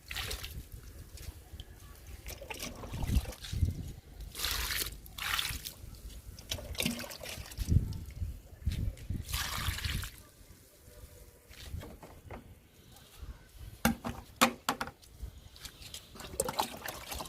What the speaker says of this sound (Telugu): లిక్విడ్ని బెండ మొక్కలకి ఇచ్చేద్దాము.